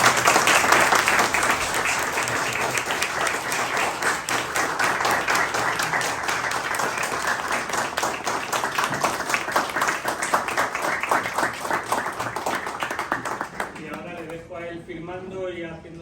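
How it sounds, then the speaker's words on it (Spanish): Loud, sustained applause from an audience fills the room, steady throughout before tapering off at the end, with some voices mixed in. "pidiendo un fuerte aplauso tanto para don Ramón como para Norberto"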